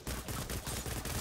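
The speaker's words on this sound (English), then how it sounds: "He's a heavy with a heavy machine gun" Heavy machine gun fire in the sci-fi shooter Dust 514: a dense, continuous burst of rapid shots with no talk over it.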